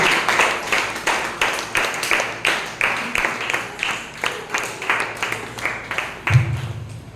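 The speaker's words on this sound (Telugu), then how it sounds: "కొట్టండి చప్పట్లు కొట్టండి" An audience claps hands at a church healing service, with steady rhythmic, fairly loud, unison claps repeating for several seconds.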